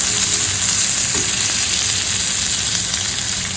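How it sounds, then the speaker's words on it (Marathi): Onion, added to green chilies in a pan of hot oil, fries with a loud, constant sizzle that holds steady throughout without any talk. "कांदा जरा मऊसर परतून घ्यायचा आहे"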